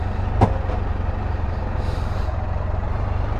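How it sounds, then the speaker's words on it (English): A truck's air parking brake being released, one short sharp pneumatic hiss near the start over a steady idling diesel engine rumble, close by. "Park brake off."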